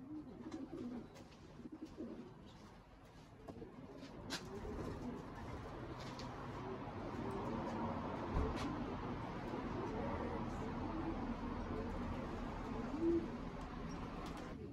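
Pigeons cooing in a group, a steady murmur of soft low calls that fills the whole stretch, with occasional louder coos and faint rustling nearby.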